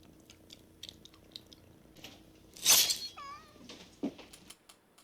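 A cat's meow rings out in a movie scene, one clear wavering cry rising from a brief burst of noise, with quiet ambience before and after and a small thump near the end.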